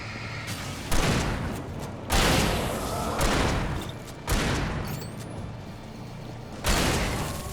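Shotgun blasts in the video game Alan Wake Remastered, five loud booming shots spaced roughly a second or more apart, each decaying into a rumbling tail.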